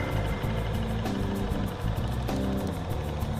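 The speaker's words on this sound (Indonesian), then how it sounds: "Mesin saya nyalakan di sini." A car engine runs steadily after Amos Metal Coat liquid additive has been poured in, giving a close, continuous idle hum with slight rev changes and no talk.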